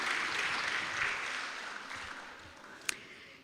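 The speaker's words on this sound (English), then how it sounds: "Give her a round of applause." Applause from a staff assembly audience, moderate and fairly distant, tapering gradually over a few seconds with a single sharper clap near the end.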